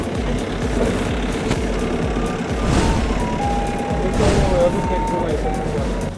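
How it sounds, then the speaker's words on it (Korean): Several 1-ton trucks pulling up at an export warehouse, with engines rumbling close by and intermittent reversing beeps sounding over the motor noise and background chatter. "지금 1톤 차들이 계속 들어오고 있는데요"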